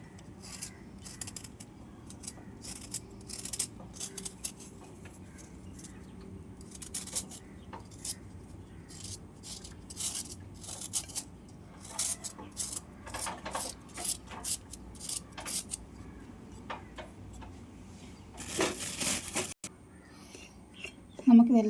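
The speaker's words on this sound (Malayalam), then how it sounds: "ഇനി കുറച്ച് ശർക്കര കൂടി അതിലേക്ക് അരിഞ്ഞിടാം." Jaggery is chopped into a bowl that already holds grated coconut, with sparse, faint cutting clicks and scrapes coming in irregular bursts over quiet background.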